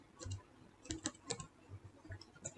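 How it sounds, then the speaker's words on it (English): Keys clack on a computer keyboard as a short project name is typed, a quick irregular run of crisp, close, fairly quiet taps with no talk. "I am typing the name school."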